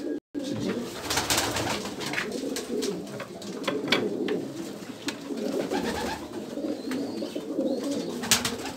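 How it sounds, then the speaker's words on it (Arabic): Pigeons coo steadily as the first racing pigeon arrives back at the loft after a release, with soft repeated cooing and light fluttering close by over a constant background hum. "شوفوا أول حمامة"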